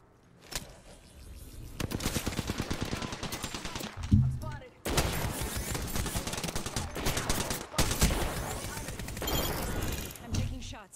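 Apex Legends gunfire rattles out in long, dense, continuous bursts, broken by a short gap and a heavy thump partway through. Game voice callouts run beneath the shooting.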